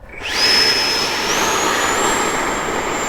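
An FMS Integral electric ducted fan RC jet spools up to full throttle outdoors, rising quickly into a loud, steady, high-pitched whine with a rushing roar that climbs slightly in pitch and holds.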